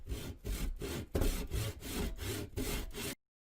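A hand saw cuts through wood in about eight steady back-and-forth strokes, each a close, rasping scrape, all within three seconds before it stops.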